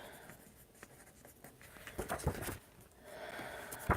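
A pen scratches across the paper of a planner in short, soft strokes, quiet and close, with faint rustling between the marks and no speech.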